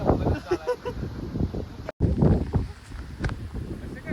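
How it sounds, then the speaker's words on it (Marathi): Strong wind blows across the top of the hilltop fort of Panhala, buffeting the microphone in low rumbling gusts while people talk close by. "इथं वरती वारं ढिगभर आहे"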